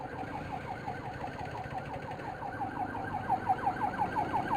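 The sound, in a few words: siren of an unmarked police car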